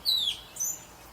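A gray catbird calls from somewhere off in the distance beside a highway, giving two short, high, slurred mews in quick succession, quiet and clear over faint background hiss.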